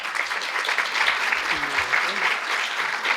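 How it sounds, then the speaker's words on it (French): An audience at a conference plenary session on prevention in nursing homes claps for a speaker, giving a steady, full round of applause with a faint murmur of voices underneath throughout. "je crois qu'on peut l'applaudir d'ailleurs"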